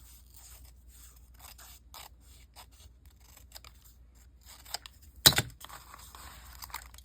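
Scissors cutting paper collage pieces, heard as quiet scattered snips and paper rustles followed by one sharp, louder cut, close and without talk.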